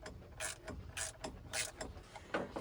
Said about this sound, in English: I wanted it to get loose enough to a point where I felt confident in the box end ratchet.